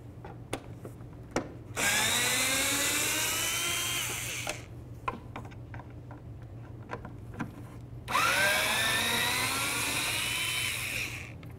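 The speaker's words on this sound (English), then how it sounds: "We're gonna remove our two mounting bolts right here using a little Torx bit." A power drill with a small Torx bit backs out the tail light mounting bolts on a 2007-2017 Ford Expedition, two sustained whirring bursts separated by clicks and handling noises, close up with no talking.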